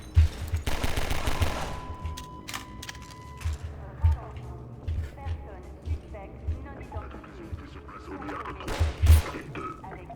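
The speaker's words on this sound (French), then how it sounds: "Mais qui me tire dessus?" Video game gunfire from Half-Life 2: Episode One comes in scattered bursts and single thudding shots with some short rapid volleys, mixed with a player talking excitedly over the action.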